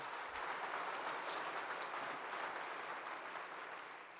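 Guests at a college's 50th annual scholarship ball break into broad, steady applause, a faint and somewhat distant roar of many hands that stays level and then gently fades.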